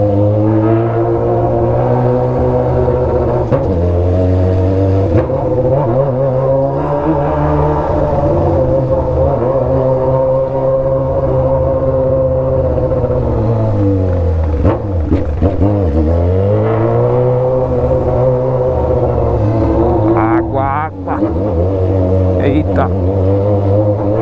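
A Honda Hornet motorcycle with an open exhaust climbs uphill through a favela, its engine droning loudly and shifting pitch as the rider revs and changes speed, with someone talking over it.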